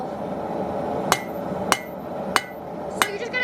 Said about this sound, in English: as you're hammering, that tip is going to deform, and it's going to try to bend